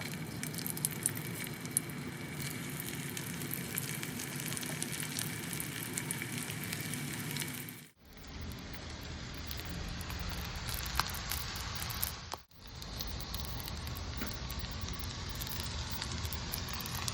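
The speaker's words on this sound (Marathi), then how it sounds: "आता हे आपले कटलेट्स त्याच्यामध्ये घोळवायचे आणि एक एक शॅलो फ्राय करायचे." Semolina-coated vegetable cutlets shallow-frying in oil give a continuous close sizzle and crackle, dipping briefly twice as the pan is shifted or the cutlets are handled, with no talking.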